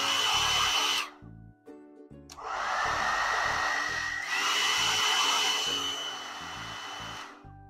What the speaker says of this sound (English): To turn it on, you have to twist it. Mind you, it is going to make some noise.